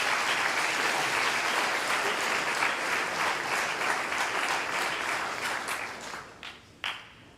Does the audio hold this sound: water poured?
no